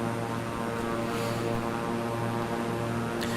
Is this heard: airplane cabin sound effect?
yes